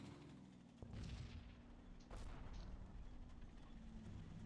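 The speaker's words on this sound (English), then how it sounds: "so artillery falling here" Artillery falling in the video game Combat Mission, two heavy blasts a little over a second apart over a continuous low rumble of distant battle.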